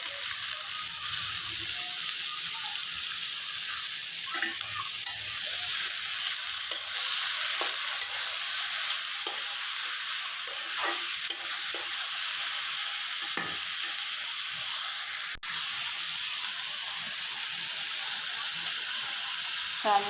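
Bitter gourd and potato pieces frying together in a pan, a steady bright sizzle with soft stirring scrapes and occasional clinks running throughout, fairly close and continuous, with no talking.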